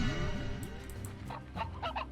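A chicken in the video game Slime Rancher clucks in a run of short, close, fairly loud calls. Some higher, squawky notes come near the end, and no one speaks over them.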